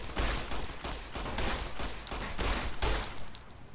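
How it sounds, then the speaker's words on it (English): Rapid bursts of gunfire from the video game Fallout New Vegas rattle in quick succession, loud and dense for several seconds with no talk over them. "shoot him in the head"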